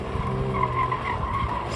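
Rear tires of a manual BMW G80 M3 skid and squeal through oversteer under power, a steady tonal screech over the continuous roar of the engine, loud and close throughout.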